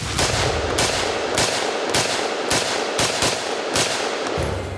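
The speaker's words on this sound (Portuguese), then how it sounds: "A saraivada de tiros sucessivos e rápidos levou o colete ao ponto de ruptura." Rapid bursts of assault rifle fire at a vest, loud and close, sharp cracks repeating in quick succession over a harsh, noisy background.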